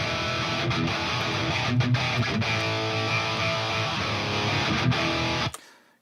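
Electric guitar played through a software Peavey XXX (Triple X) amp simulator with overdrive, bright switch and attack switch engaged, giving thick saturated riffing with palm-muted chugs that rings loudly for about five seconds and then cuts off.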